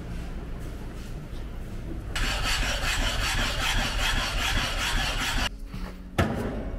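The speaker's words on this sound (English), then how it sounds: "Knife sharpening." Knife sharpening during a blacksmith workshop visit in Niigata, Japan: steady close abrasive rubbing and grinding strokes of a blade on a stone, continuous and fairly loud, breaking off briefly near the end.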